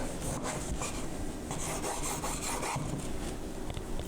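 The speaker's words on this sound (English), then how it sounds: "We're gonna cut us some nice thick slices, use a serrated knife." Serrated knife sawing through a loaf of bread to cut thick slices, a steady, close rasping scrape that continues without pause and with no talk.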